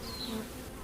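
Honeybees buzz at a brood frame lifted from a hive during a pre-harvest inspection for American foulbrood. The hum is steady and close, with no talk.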